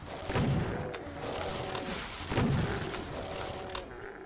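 Booming gunfire and blasts from enemies in the classic shooter DOOM, two heavy low thuds about two seconds apart over a constant rumbling game soundscape, no speech.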